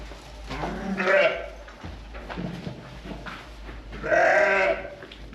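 Goats and sheep at a farm bleat in two loud, close calls about three seconds apart, with a person talking in between and low background noise.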